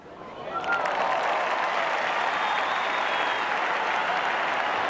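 Cricket crowd at a 1983 Australia versus Pakistan Test match applauding a Kim Hughes shot, loud sustained clapping swelling within the first second and holding steady to the end.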